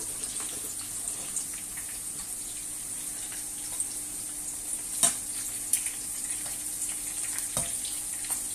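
Chili pepper frying in hot oil, a soft steady bubbling sizzle with a few sharp crackles and pops, heard near and alone.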